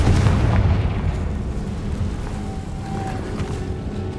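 Confringo blasting curse explosion in Hogwarts Legacy, a loud low boom at the start followed by a long rolling rumble that slowly fades, with a faint tonal whine partway through.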